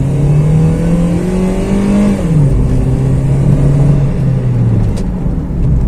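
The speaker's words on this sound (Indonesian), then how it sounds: "Nah itu suara mesinnya itu nggak seindah Honda ya." Toyota Yaris engine accelerating hard while overtaking on the road, heard from inside the car: a loud, sustained mid-pitched drone that climbs, drops at a gear change, then climbs again, with road noise underneath.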